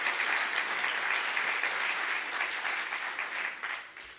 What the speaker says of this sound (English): Please give that group of individuals a warm round of applause.